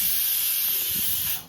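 Pressure cooker on a home stove whistling while bottle gourd curry cooks, a loud steady high-pitched steam hiss that carries alone and trails off at the end.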